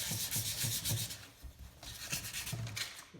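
Sandpaper of 150 grit rubs inside a metal lantern fount in quick back-and-forth strokes, a close, raspy scratching in bursts with short pauses between them.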